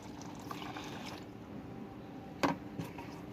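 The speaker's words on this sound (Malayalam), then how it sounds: "2 ലിറ്റർ പാല് പാരുന്നു. അത് ഡിഷിലേക്ക്" Two litres of rubber latex pour into a dish for making rubber sheets, a faint soft liquid trickle with a brief splashy gurgle near the end.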